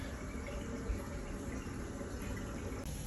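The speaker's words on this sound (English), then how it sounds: "I'm running hot water in each sink fixture." Hot water runs steadily from a bathroom sink tap during a home inspection in Paris, France, a continuous close hiss and splash of flowing water with no voices.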